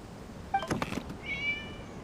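A short, quiet cat meow in Genshin Impact with a brief thump in the middle, set against a soft background hiss.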